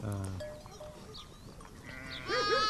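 Merino sheep and lambs on a Turkish livestock farm bleat close by, with one call at the start and another wavering bleat near the end, over rustling barn ambience.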